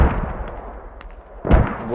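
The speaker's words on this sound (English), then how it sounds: "They're using their own mortars against them." Mortar fire in the video game Squad, a near heavy thump at the start, a quieter rumbling lull, then another sharp loud blast about midway through.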